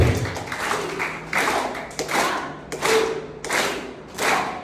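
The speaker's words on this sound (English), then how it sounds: "encourage everyone to clap their hands rhythmically with me" A school class of grade 6-8 pupils clapping hands together in rhythm, a series of roughly regular group claps about every half-second to second, each a broad burst with a short decay, fairly close with no talk.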